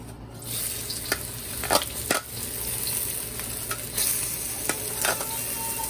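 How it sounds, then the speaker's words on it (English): Onions hit hot oil in a pan over high heat, a loud steady sizzle punctuated by sharp scraping and clinks of stirring, close up with no talking. "We'll throw in some of the onions."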